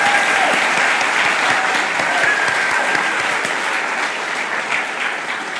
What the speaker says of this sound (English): Should we give them a big round of applause for those who are on film?